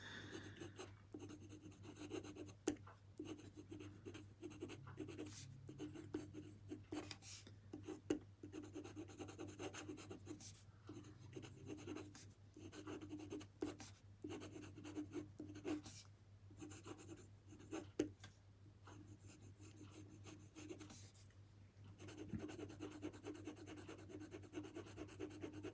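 A Jinhao 100 fountain pen with a steel nib scratches and rubs across paper in quiet, close strokes, soft intermittent scribbling with brief pauses between words.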